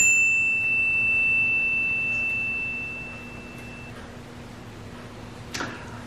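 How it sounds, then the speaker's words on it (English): A single sustained chime tone rings thin and steady for several seconds, then fades, with a faint tap near the end over a quiet background hiss. "as it comes off this chime and moves in and we pick it up and hear it with our ears, it doesn't end"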